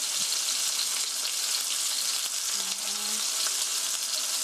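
Pork frying in a pan, stirred gently: a dense, steady sizzle fills the whole stretch at constant loudness, with a faint soft scrape of the stirring midway and no talking.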